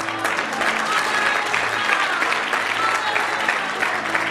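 Church congregation applauding in a dense, continuous clatter of clapping that stays loud and even throughout, with faint voices mixed in.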